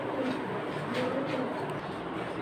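Soft, low cooing of pigeons kept as flying birds in a loft, a steady murmur at moderate distance with no talk.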